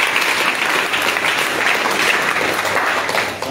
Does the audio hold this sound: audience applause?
yes